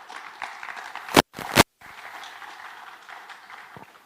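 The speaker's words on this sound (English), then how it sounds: "Another round of applause, please." Conference audience applauding in a hall: steady, moderately loud clapping from many hands, briefly broken by a couple of sharp bursts before settling back into a softer, continuous patter.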